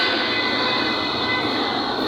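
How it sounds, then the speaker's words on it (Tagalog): A Honda PCX 160 scooter with a noisy pulley side, giving a loud, steady mechanical whirring drone that holds without pause, close up and with no voices. "Hindi naman talaga normal na maingay ang panggilid ng PCX."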